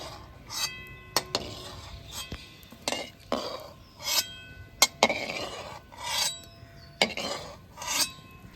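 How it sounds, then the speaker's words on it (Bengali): Someone scrubs a kadai cooking pan while washing it, making about ten rasping strokes in a steady rhythm, with sharp metallic clinks between them, close and clear. "কড়াইটা একটু ধুয়ে নিলাম"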